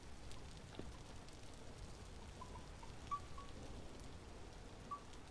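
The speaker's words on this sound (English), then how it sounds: "Just admiring the rain and listening to it." Steady rain falls in the video game Vintage Story, a soft even hiss of drops on surfaces that continues without pause, faint and unbroken, with a couple of small brighter ticks standing out.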